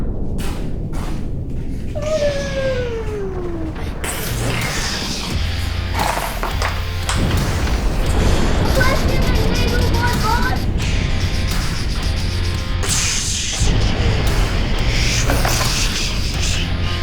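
A voice imitates a naval bombardment during toy army-men play, giving a falling whistle followed by rough explosive blasts and thuds that repeat closely and loudly.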